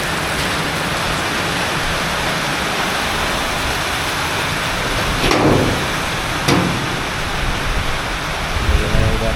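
Deep high floodwater rushes in a constant broadband roar, with a couple of brief louder splashes or surges partway through.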